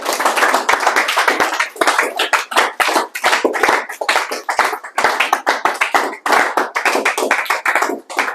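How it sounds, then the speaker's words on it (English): An audience claps hands for a speaker in a classroom, loud and close. The fast, dense clapping is sustained and continues for several seconds with hardly a pause. "claps for me"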